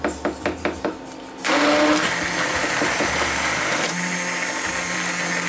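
A blender purées roasted potato soup with bacon: several quick knocks first, then the motor kicks in with a loud, steady whirring roar that runs close and continuous to the end, no talk.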